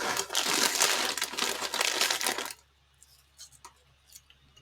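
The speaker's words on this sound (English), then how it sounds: "where will you hear me eating chips." Loud, crisp crunching and crinkling for a couple of seconds, potato chips being chewed close up, then near-silence with a few faint rustles.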